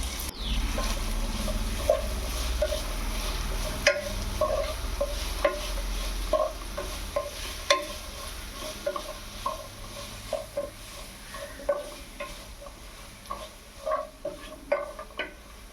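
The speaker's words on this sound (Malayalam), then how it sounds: "ആവശ്യത്തിന് ഉള്ളിയും കൂടി ചേർത്ത് നന്നായി ഇളക്കി എടുക്കുക" Onions and curry leaves frying in a pan at a street-food stall, under a constant soft sizzle, with repeated stirring scrapes and taps that grow more frequent and sharper toward the end.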